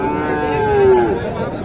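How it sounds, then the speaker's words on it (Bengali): A crossbred cow moos once, loud and close, at a busy rural cattle market in Naogaon, a drawn-out low call over faint background chatter. "ক্রস গরুর কি অবস্থা"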